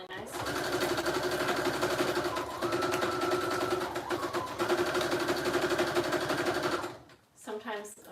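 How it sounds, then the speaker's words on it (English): A sewing machine runs in fast rapid stitching bursts through fabric pieces for a small bohemian journal, close and loud, with brief pauses, then stopping near the end as a voice talks. "I just try to sew around like each fabric individually"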